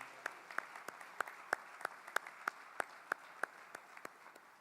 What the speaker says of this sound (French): J'aimerais qu'on leur donne une très bonne main d'applaudissements